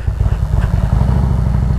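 Loud, close motorcycle engines rumbling and revving steadily, a deep throbbing sound as the bikes pull away.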